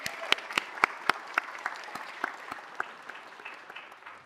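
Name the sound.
audience applause after dancers' performance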